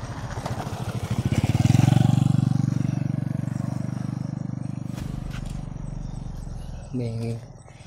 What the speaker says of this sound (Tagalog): May iba rin motor na dumaan